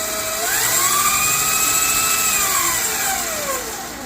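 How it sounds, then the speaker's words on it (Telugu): A mini lathe motor runs with a rising then falling whine, a steady mechanical drone that climbs in pitch, holds, and drops off near the end, close and fairly loud with no talk. "ఇది ఆన్ చేయాలంటే ఫస్ట్ ఈ మోటార్ ఆన్ చేసి ఆర్పిఎం ఇంక్రీజ్ ఆర్ డిక్రీజ్ చేయాలి."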